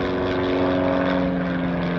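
A propeller airplane engine drones loud and steady during an aerobatic comedy act at the New Garden airshow, a close sustained buzzing roar with no talking.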